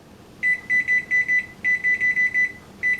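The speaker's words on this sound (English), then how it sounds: "I'm setting my timer for 25 minutes" Kitchen timer on a stove beeping while it is set during jambalaya cooking, a run of short, clear electronic beeps in quick bursts, loud and alone.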